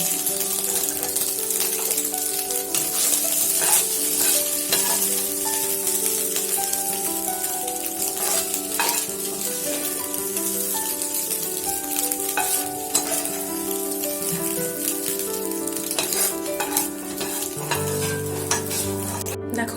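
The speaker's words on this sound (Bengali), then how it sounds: "দেখো ডিমটাও খুব ভালোভাবে কিন্তু ফ্রাই হয়ে গেছে" An egg fries in hot oil in a wok while cooking restaurant-style egg chicken chow mein. It gives a steady, close, loud sizzle with crackling and occasional stirring scrapes, and no one speaks.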